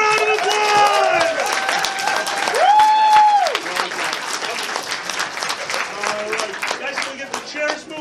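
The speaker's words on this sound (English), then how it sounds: "Yes, give them a round of applause!" A convention crowd at a charity improv show breaks into loud applause and cheering, sustained clapping with voices talking and calling out over it throughout.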